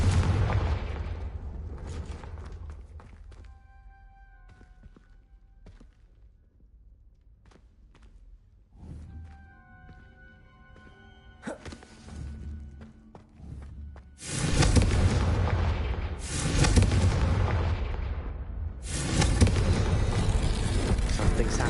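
Confringo fire spell explosions in the video game Hogwarts Legacy, a loud opening boom fading away, quiet game ambience with chimes and footsteps, then several powerful blasts in succession near the end.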